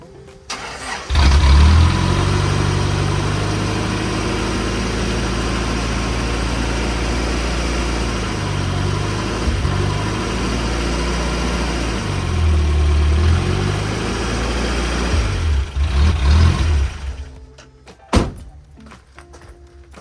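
An old Toyota truck engine cranks and catches, then settles into a steady, fairly loud mid-pitched idle with a few revs and a brief surge before cutting off near the end.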